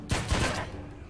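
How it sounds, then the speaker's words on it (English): Gunfire from the video game John Wick Hex comes in a quick burst of two or three loud, close shots, followed by a dull reverberant tail. "Shoot him."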